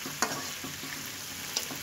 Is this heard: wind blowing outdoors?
no